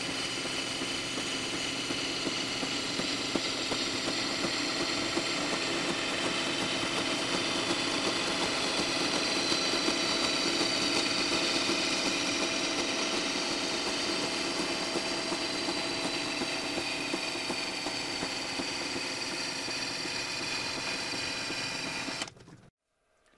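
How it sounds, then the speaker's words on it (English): A metal lathe turns a steel pipe to square and clean up its edge for a press brake build, giving a steady, even machine whir and hum that runs unchanged for over twenty seconds before cutting off abruptly. "we've got our pipe set up in the lathe here, and all this is for is to make both pipes the exact same length"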